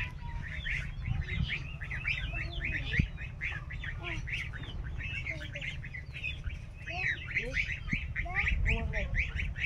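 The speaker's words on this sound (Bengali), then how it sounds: "ওই যে আমাদের চীনা হাঁসগুলো" Chinese ducks sitting on a boat on a river give repeated quacks and calls among many busy outdoor bird chirps, moderately close, over a low rumbling background.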